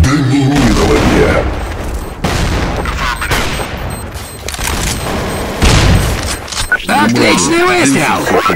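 Rapid bursts of gunfire and booming explosions from a Counter-Strike: Source round, loud and dense throughout, with announcer-style voices talking over the shooting.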